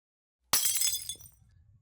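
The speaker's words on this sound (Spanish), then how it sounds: "por el ruido descubro que en realidad era de vidrio" A glass cup falls onto the floor and shatters with one sudden crash, followed by a second of scattering, tinkling shards that fade out, with silence before the impact.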